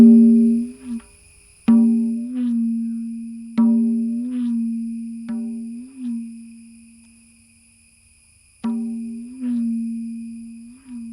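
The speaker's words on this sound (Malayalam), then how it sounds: "വണ്ട് മൂളുന്ന ശബ്ദം പറയാം." A resonant maddalam drum hums in long, wavering tones, struck several times with pauses between, each note droning and fading like a buzzing beetle, as played in Kathakali music.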